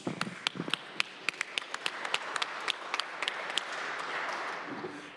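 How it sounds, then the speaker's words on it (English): The audience at a Cleveland city council meeting applauds an introduced councilman, opening with a few crisp separate claps that quickly build into a fuller round of clapping. "Let's give him a round of applause."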